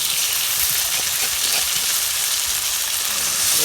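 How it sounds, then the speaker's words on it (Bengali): Banana stem mixture sautéing in hot oil gives a steady, close sizzle with continuous frying hiss and no talking. "এগুলো দিয়ে দিলাম তেলের ভিতরে"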